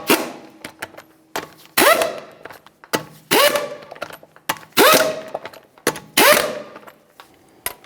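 An impact wrench drives 22mm wheel lug nuts on a 2013-2015 Chevrolet Malibu in six loud, close bursts of rapid hammering that each fade out, separated by short pauses and light clicks.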